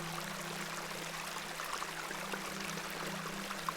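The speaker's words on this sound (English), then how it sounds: "This is a lovely little beck. It's where we get our water, miss." A small beck in the game The Excavation at Hob's Barrow trickles and burbles softly with a steady gentle flow, faint and alone.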